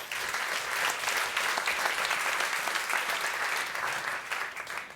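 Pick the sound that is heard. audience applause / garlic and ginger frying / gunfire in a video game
audience applause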